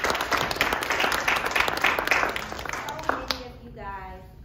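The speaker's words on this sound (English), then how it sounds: "Give yourselves another round of applause." Applause from an audience honoring scholarship students at a bar association foundation event, dense clapping for about three seconds, then fading as a voice speaks over the tail.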